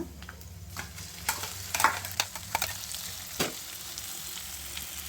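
Spice masala fries in oil in a pan, a close, soft continuous sizzle punctuated by several crisp taps and scrapes of a stirring spoon.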